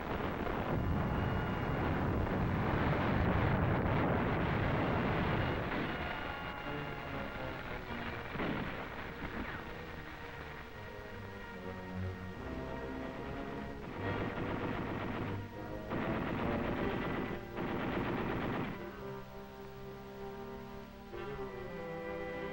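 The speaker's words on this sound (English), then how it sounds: "Our artillery delivers heavy fire on the central strong point of the enemy's defense line" Heavy WWII artillery fire on the enemy's central strong point at Shuri during the 1945 Okinawa battle: dense, rumbling bursts that are loudest early on and continue as sustained booming throughout.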